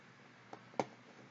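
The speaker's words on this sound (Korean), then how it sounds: "엑셀 파일 불러오기 버튼 클릭해 주시면" A single mouse click on a computer's Excel file upload button, a short sharp tick heard alone against quiet room tone, preceded by a fainter tap.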